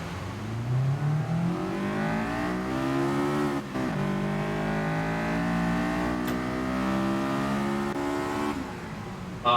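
A high-revving race car engine in the video game GT Sport screams steadily toward about 9,000 RPM, pitch sweeping up through the gears with brief dips at each shift, loud and continuous.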